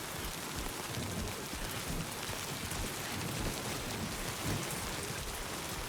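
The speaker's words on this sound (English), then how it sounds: "Rain falling upstream nearby river." Steady rain falls near a river in the video game Death Stranding 2, an even, dense hiss of drops with a low rumble underneath, continuous and unbroken throughout.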